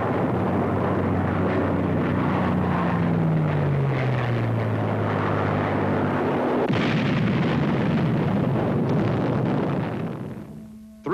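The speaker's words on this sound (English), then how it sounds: "Three times bombs smash into the Enterprise." Bombs exploding aboard the WWII aircraft carrier Enterprise in the Pacific: a loud, sustained rumble of blasts with an aircraft engine droning and falling in pitch, a sharp new explosion hitting near the end, then fading.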